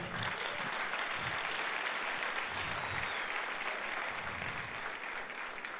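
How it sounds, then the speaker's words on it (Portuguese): Church congregation applauding during a pastors' gathering, a continuous dense roar of clapping that holds steady for several seconds, somewhat distant and quiet. "Você quer aplaudir Jesus? Pode aplaudir."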